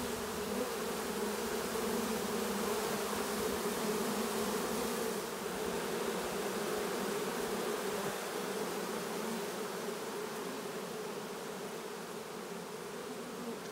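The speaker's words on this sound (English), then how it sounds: "some of the bees have already made it up into the top of the hive" A honey bee swarm around a hive drones continuously, a dense, steady buzz close by with no voices over it.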